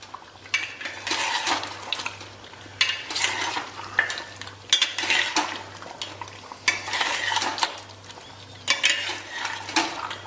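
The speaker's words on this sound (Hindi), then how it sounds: "अब हमें इसको तेज़ आंच पे भूनना है।" Mutton pieces with garlic-ginger paste being stirred and roasted over high heat in a pan, with repeated scraping and clattering of a spoon against metal over a steady sizzle, close and moderately loud.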